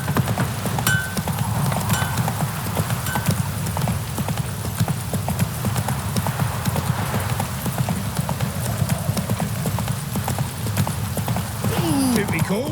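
The horse Roach galloping in The Witcher 3, a rapid, steady drum of hooves on the ground that runs throughout, with game voices and music playing over it.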